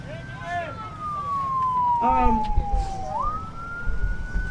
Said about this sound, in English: Ambulance coming, let them go.